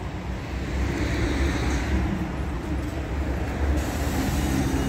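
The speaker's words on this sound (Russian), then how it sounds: "Вот подъезжает автобус." A city bus pulls up at a central stop in Nizhny Novgorod, with a minibus following behind it. The engine rumble and traffic noise are steady and moderately loud, and no speech is heard.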